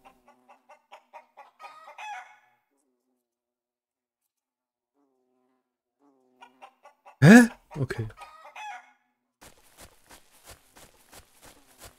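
Chicken clucking in the My Horse video game, a series of short clucks and a few louder squawks that come and go, with one brief spoken word in the middle.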